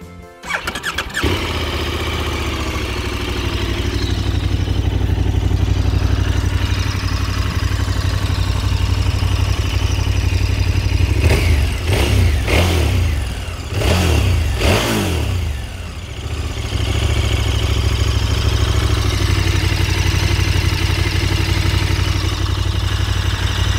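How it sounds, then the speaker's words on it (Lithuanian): A KTM 1290 Adventure S or 890 Adventure R motorcycle engine runs close by at a loud, steady idle, broken mid-way by a few sharp throttle blips and revs before settling back to a constant drone. "Paklausom variklį, ką barškums."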